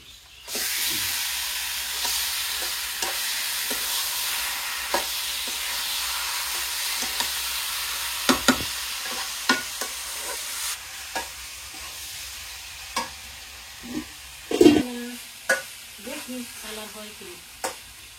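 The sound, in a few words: spice paste being stirred and fried for chicken curry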